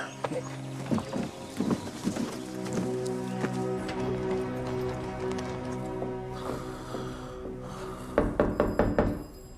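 A horse's hooves clip-clop at a steady walking pace in a TV drama scene over a busy background of music, then a sharper burst of hoof knocks near the end.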